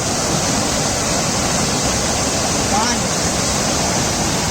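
A small waterfall in a village, swollen by heavy rain, roars as a loud, steady broadband rush of falling water with no breaks, close and continuous throughout.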